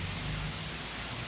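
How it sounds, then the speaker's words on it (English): Heavy rain falls outside in a thick unbroken hiss with a deep rumbling undertone, loud and steady throughout. "definitely you can hear this fucking rain"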